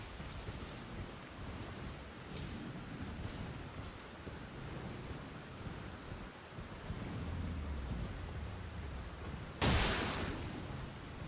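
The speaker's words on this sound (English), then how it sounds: "Yes, rain." Steady rain hisses evenly throughout, with low rumbles of thunder rolling beneath and a sudden sharp crack of thunder near the end, all fairly soft and without voices.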